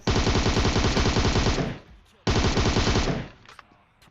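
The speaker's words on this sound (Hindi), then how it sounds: "अब गोलियां इधर तोड़ फोड़ के चल रही है" Two long bursts of rapid automatic gunfire in PUBG, loud and close, each cutting off into a brief ringing tail, with a few faint clicks after.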